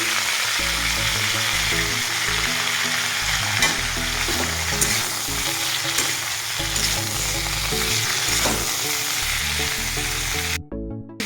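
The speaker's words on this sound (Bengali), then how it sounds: "ভালোভাবে আমি নাড়িয়ে চেড়ে ভেজে নেব সবজিটা" Mixed vegetables for shukto fry and get stirred in a pan, a steady close sizzle with utensil scrapes and stirring, continuous and loud with no talk, cutting off near the end.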